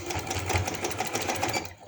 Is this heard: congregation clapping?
no